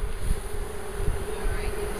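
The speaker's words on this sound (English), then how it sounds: "Brushing bees off the side." A dense, steady hum of many honeybees buzzing around a hive while a package of bees is brushed in, close and continuous with no talking.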